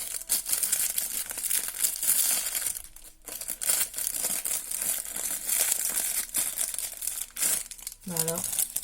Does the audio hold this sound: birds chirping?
no